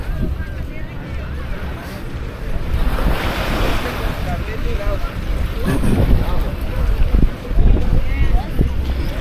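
Ocean surf rolls onto Canasvieiras beach on a summer morning, a loud, continuous roar of breaking waves mixed with wind buffeting the microphone, with faint voices in the background.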